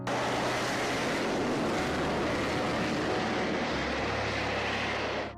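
A Concorde jet at takeoff, a sustained loud, dense roar of jet engines holding steady for several seconds before cutting off abruptly.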